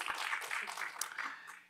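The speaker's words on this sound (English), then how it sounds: "That definitely deserves a round of applause." An audience claps in a burst of applause that holds steady for a moment and then fades near the end, with no talk over it.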